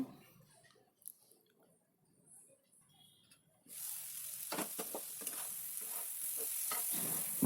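Chopped ivy gourd fries in a pan, starting with soft, quiet stirring and then rising after a few seconds into a steady, loud sizzle with scraping clicks from a spatula. No one speaks.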